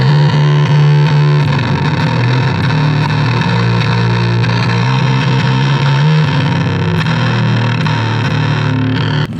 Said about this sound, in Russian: Но я еще очень люблю фуз, который прямо стену звука дает.